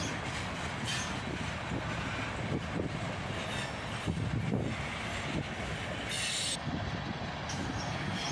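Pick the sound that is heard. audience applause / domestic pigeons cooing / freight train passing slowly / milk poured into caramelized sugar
freight train passing slowly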